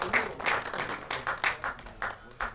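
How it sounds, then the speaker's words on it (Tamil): Audience at a directors' club album song screening festival clapping for a cinematographer, a short burst of moderately loud, uneven applause with rhythmic pulses. "ஸோ விஜய் கிரணுக்கு ஒரு பெரிய கைத்தட்டல்."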